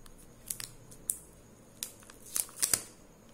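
Plastic cover peeled off an Echo Dot battery base, a series of sharp, close crinkles and snaps at irregular intervals, alone over a quiet background.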